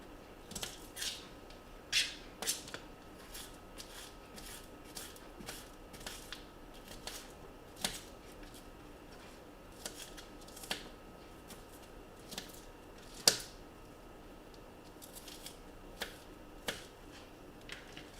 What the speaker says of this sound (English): I'm sure trained chefs are watching me dice this onion.